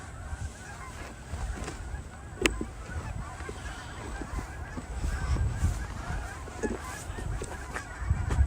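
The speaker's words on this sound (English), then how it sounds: "There's more geese going by." More geese fly over in a V formation at dusk, their honks overlapping in a busy, uneven chorus that builds toward the end, moderately near, without any voices.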